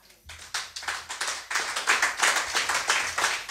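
A church congregation claps along in time during a French-language evangelical service: steady, brisk hand claps about two per second, loud and full, with no talking.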